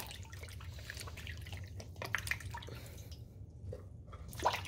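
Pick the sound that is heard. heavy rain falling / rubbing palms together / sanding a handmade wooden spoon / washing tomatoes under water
washing tomatoes under water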